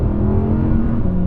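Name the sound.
Audi R8 rear-wheel-drive car engine under throttle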